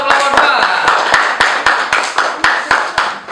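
A classroom group claps for group 2 in a fast, steady rhythm, about a dozen crisp, loud claps in unison, close and with no voices over them.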